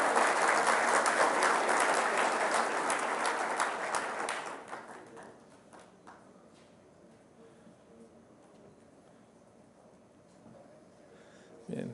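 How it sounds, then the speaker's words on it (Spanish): Audience applause at a forestry seminar in Mexico, loud and dense for about four and a half seconds, then fading quickly to quiet room tone with a brief burst of sound at the very end. "Un aplauso, por favor, muchas gracias."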